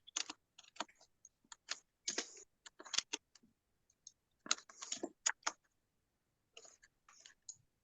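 Computer keyboard typing Korean text, close and quiet: irregular clusters of sharp key clicks separated by brief pauses, with a longer gap near the middle.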